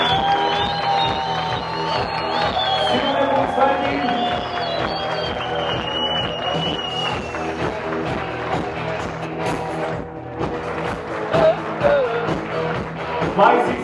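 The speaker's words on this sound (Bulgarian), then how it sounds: "Да аплодираме много силно родителите на Булката и родителите на младоженеца." Wedding guests applaud the bride's and groom's parents with sustained clapping and crowd noise in a hall, mixed with music and a voice over loudspeakers. The clapping swells near the end.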